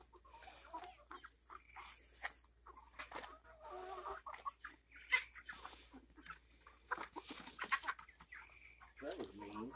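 A small flock of backyard chickens clucks and murmurs in soft, scattered bursts while being herded to their coop for the night, close but quiet.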